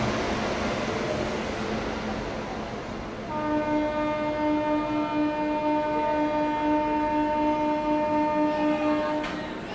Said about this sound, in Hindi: देखिए वेब 7 के साथ पहुँची है बांद्रा रामनगर एक्सप्रेस इरोड शेड के